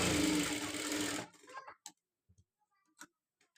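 A sewing machine runs steadily for just over a second while stitching fabric for a rose latkan, then stops, leaving a few scattered clicks and light taps as the material is handled.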